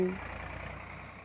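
A tractor engine drones steadily as the machine moves from one farm field to the next, a low rumbling hum heard at moderate distance for a brief moment.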